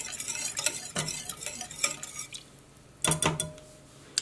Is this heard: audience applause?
no